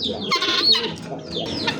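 Hens cluck close by in short, rapid bursts, a couple of birds calling over each other with no talking.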